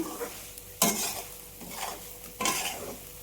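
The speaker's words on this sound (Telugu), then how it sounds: "చూడండి తాలింపు బాగా వేగిపోయింది" Tempering for small bitter gourds fries in a pan as a spoon stirs it, with a steady sizzle broken by two sharp metallic scrapes and some softer stirring sounds, and no talking.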